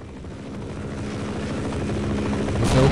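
Helicopter in the video game Half-Life, a low rotor thump and engine drone that swells steadily as the craft approaches and gets louder near the end.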